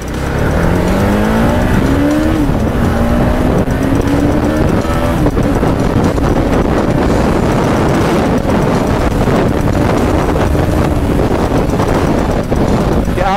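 Engine of a TVS Apache RR 310 motorcycle on the move, a steady loud drone with rising and falling revs, heavy wind rush over it throughout and no clear talk.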